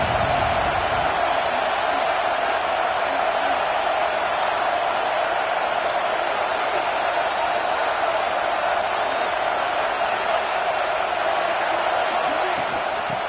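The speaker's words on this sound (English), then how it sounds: "This crowd ready to make its presence known." Stadium crowd in the College Football 26 video game, a steady, loud wall of roaring fan noise that holds without pause for the whole stretch.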